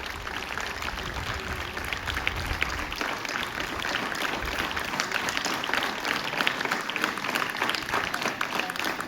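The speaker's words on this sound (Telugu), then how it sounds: "ఇక్కడ కూర్చున్న ప్రతి ఒక్కరూ చప్పట్లు కొట్టాల్సిందిగా కోరుతున్నాను." An audience applauds for Dr. B. R. Ambedkar at a 77th Republic Day gathering, with dense, sustained clapping from many hands that holds steady throughout.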